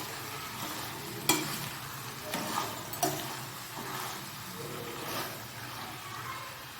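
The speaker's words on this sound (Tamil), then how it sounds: "அதுலேயே சிக்கன் சேர்த்து நல்லா கிண்டி விடணும்" Marinated chicken being stirred into fried onions and tomatoes for chicken biryani, with a soft steady sizzle broken by several sharp scraping clacks of a spoon against the pan.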